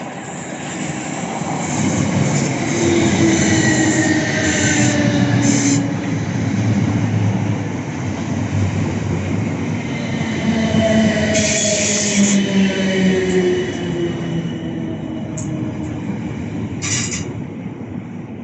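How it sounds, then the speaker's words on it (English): A South Western Railway train pulls into Clapham Junction, a loud steady rumble of wheels on rails with wheel squeal and brake hiss rising and falling over about eighteen seconds, close by on the platform. "Oh, stand back, there's a train approaching."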